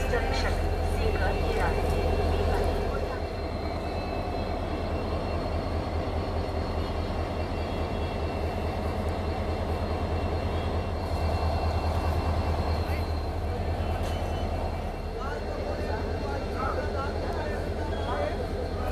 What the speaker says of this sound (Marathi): आणि मी आपल्याला जे WDP 40 लोकोमोटिव्ह दाखवलं होतं स्टार्टिंगला, ते आता आलं आहे आपल्या ट्रेनला अटॅच होण्यासाठी मागच्या डब्याला